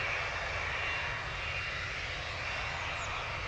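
Ryanair jet arriving at London Stansted from Cologne, a steady engine whine and rushing roar at moderate distance, constant across the short stretch.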